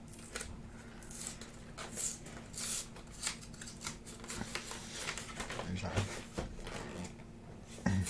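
A glued Pokémon card box is pried and torn open by hand, giving close, papery rustling, scraping and soft tearing with scattered sharp clicks throughout, and a voice is faintly present.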